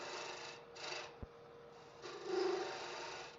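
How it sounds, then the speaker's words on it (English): A bowl gouge cuts a wooden wand spinning on a lathe. A close, continuous scraping rasp swells and eases in short waves, with one sharp tick partway through and no talking. "I'm still going to roll a little bead here with my bowl gouge, get down in here a little bit, clean that up."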